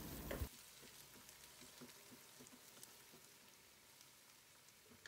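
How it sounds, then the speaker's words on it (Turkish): Onions fry in a pot, giving a faint, steady sizzle with soft intermittent crackles and light stirring, heard alone without talk. "Karıştırıyorum."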